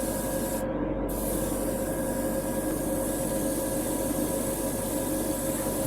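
Airbrush fed by a Turbo X Mini compressor spraying clear yellow paint over bare plastic: a steady, close airy hiss that holds continuously under a low compressor hum, with one brief break near the start.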